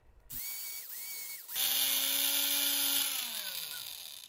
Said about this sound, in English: So I can use my Dremel here, make a circle out of it